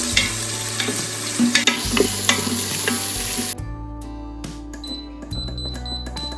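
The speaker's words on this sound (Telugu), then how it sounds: "చికెన్ స్టార్టర్కి కావాల్సిన చికెన్ని ఫ్రై చేస్తున్నాను" Thinly sliced chicken sizzles as it deep-fries in hot oil for a starter in a home kitchen, a steady loud crackle broken by occasional stirring and clinks, then a quieter, sparser bubbling.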